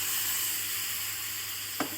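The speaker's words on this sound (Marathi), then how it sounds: "टाकते चणे उकळलेले" Boiled chickpeas hit hot oil seasoned with ground black masala, giving a steady, close frying sizzle throughout with a brief clatter near the end; no talking.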